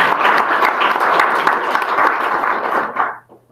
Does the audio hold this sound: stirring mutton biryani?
no